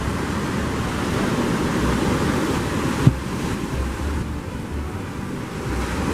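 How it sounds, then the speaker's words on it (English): Rough ocean surf washes up a beach in a steady, loud roar, with wind buffeting the microphone and a single brief thump midway, no voices. "this is the angriest I've seen the water"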